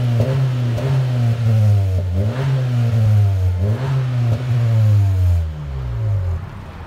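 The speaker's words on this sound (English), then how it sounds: "Honda Civic. Give it gas." A 2016 Honda Civic Si with a 1.5L engine, dual exhaust and the mufflers deleted, revving hard over and over: loud, close rasping climbs, each falling back before the next blip, then settling to idle at the end.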